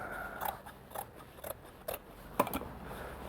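Scissors snip through the seam of a sheepskin leather jacket, about six distinct crisp cuts at an uneven pace, close and quiet with nothing else heard.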